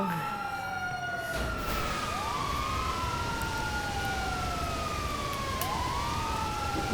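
Police car siren in the video game GTA V wails up and down in long, loud sweeps over a constant roar of engine and road noise.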